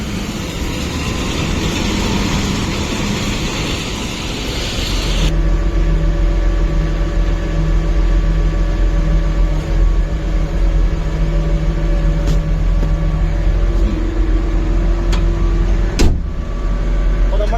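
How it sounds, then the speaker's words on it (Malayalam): A loader working at a roadworks site runs its engine with a steady low diesel hum that rises into a heavier drone midway, with a few clanks, and no one talking. "അപ്പോൾ നമ്മുടെ ലോഡർ ഇവിടുന്ന് പണിയെടുത്തുകൊണ്ടിരിക്കുകയാണ് കേട്ടോ"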